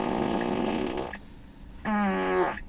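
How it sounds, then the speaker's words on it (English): Tesla fart mode sound effect playing inside the car: a long buzzy blast lasting about a second, a brief pause, then a second shorter, tonal raspy burst, both loud and close with no talk. "So the fart mode is pretty fun to play with when you have passengers."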